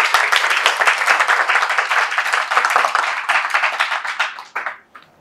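Loud, sustained applause from a crowd at a political election rally, dense clapping continuing for several seconds before tapering off into a few scattered claps.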